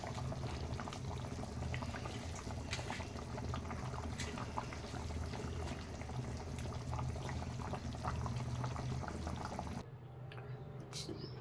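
Fish curry bubbling in a pot on the stove, a steady close simmer with small pops and liquid gurgles that softens near the end.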